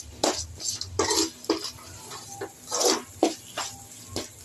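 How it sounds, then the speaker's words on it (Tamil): A spoon scrapes and rasps against a pan while chili powder masala is sautéed for oyster mushroom gravy, giving close, uneven bursts of stirring with short pauses between strokes. "இது நல்லா இப்போ வதக்கணுங்க"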